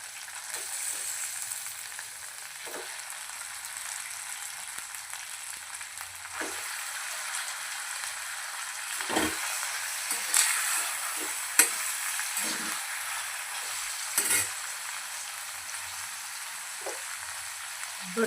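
Bangda mackerel frying in hot oil in a pan, giving a steady close hiss broken by sharp pops, spatters and a few scraping stirs, with no voices.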